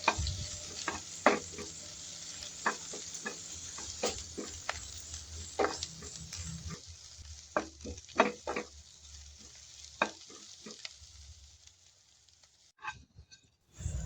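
Black peppercorns temper in hot oil in a pan for a milky jackfruit curry, giving a loud, steady sizzle broken by repeated scraping stirs. The sizzle fades to quieter crackles near the end.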